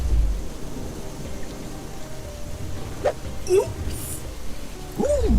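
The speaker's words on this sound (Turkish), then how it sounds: "Yağmur yağıyor." Rain and rumbling thunder in an animated forest scene, a steady wash of rainfall with low thunder rolls throughout and a few brief louder bursts near the end.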